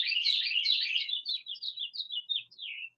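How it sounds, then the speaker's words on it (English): Birds chirping and singing outdoors, a close, bright warbling phrase that breaks into a run of quick separate chirps before trailing off, with no voices over it. "we're being serenaded by the birds"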